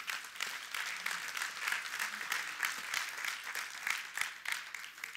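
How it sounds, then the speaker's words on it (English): A church congregation claps hands in praise during a Sunday service, a dense, fairly distant spread of clapping that swells and dips steadily, with no talk over it. "Give the Lord a good hand clap of praise today."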